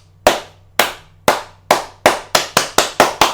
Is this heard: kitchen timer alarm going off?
no